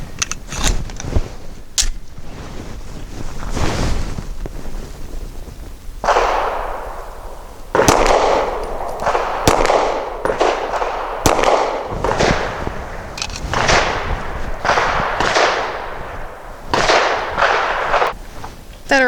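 A Walther Q4 SF pistol fires Hornady Critical Duty 135 grain rounds, sharp loud reports spaced irregularly, roughly a dozen shots with short gaps and echoing tails, close by with no voices.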